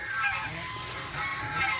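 Geese on a farm honking in a near, overlapping chorus of nasal calls that rise and fall over a short, continuous stretch, with no talk.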